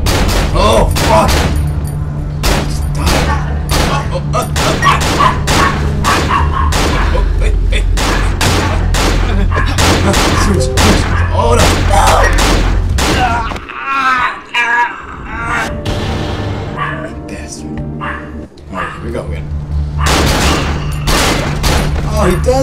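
Gunfire in the game Cry of Fear comes as dense, rapid bursts of sharp shots, loud and close. There is a brief lull in the middle before the firing resumes, and voices and moans are scattered through it.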